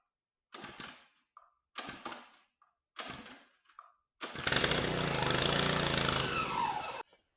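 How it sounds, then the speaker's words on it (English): An Earthquake string trimmer is pull-started: three quick rasping cord pulls with short pauses between them, then the small engine catches and runs loudly for a few seconds before cutting off. "and then we're going to pull start it."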